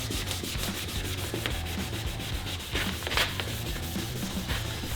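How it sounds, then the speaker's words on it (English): Wet sanding the yellowed, oxidized coating off a car headlight lens produces a steady rhythmic scrubbing of back-and-forth strokes, close and continuous, with no talking. "I want you to sand this until that yellow damaged oxidized coating starts turning white"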